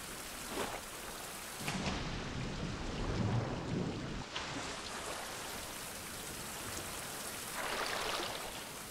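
Heavy rain and rolling thunder of a storm in the survival game Fountain of Youth: steady downpour with a deep rumble swelling midway and another burst near the end, no talk.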